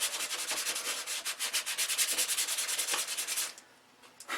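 Steady rhythmic hand sanding of a surface, brisk back-and-forth rasping strokes close up, continuing evenly before briefly pausing and starting again.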